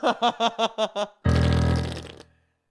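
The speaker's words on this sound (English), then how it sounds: "that's the fart sound." A fart sound effect opens with a quick run of six short, bubbly, pitched puffs, then breaks into one long, loud, raspy blast that fades out.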